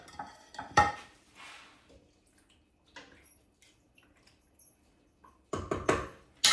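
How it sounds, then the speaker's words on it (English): A spoon clinks and scrapes against a pot while seasoning for homemade chicken soup is stirred, in short sparse bursts of metallic knocks separated by near silence, close by. "Let's get a spoon and mix it up."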